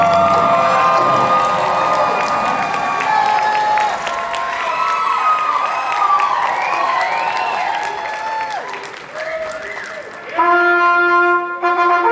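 A convention panel audience at a horror-themed fan event cheers, whoops and claps loudly and continuously, with shouting voices throughout and a sustained tone near the end.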